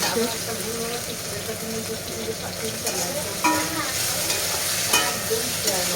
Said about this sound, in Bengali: তো দেখো কুমড়োটা ভাজা হচ্ছে